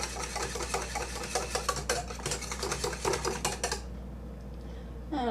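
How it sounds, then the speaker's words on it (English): A whisk beating a Clear Jel and sugar mixture in a bowl, quick rhythmic clinking strokes repeating steadily for several seconds, then stopping abruptly over a low steady hum. "get that whisk in"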